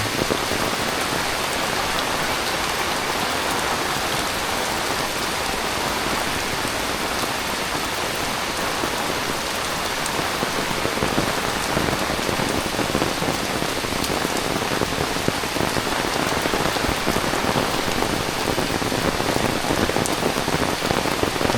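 Heavy rain pours steadily onto surfaces, a dense, unbroken hiss of drops that stays loud and even throughout.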